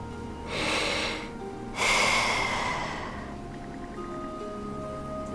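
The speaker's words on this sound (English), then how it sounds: "The sound of Karja's steady breathing fills the air." Steady sleeping breathing of a character in the video game Ys X, two long airy exhales in close succession, close and fairly loud, then quieter soft breaths over a faint ambient background.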